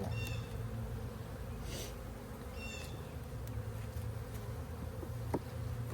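Honeybees buzz steadily during a hive split and inspection, a dense, continuous drone at moderate level throughout, with occasional brief knocks and handling sounds.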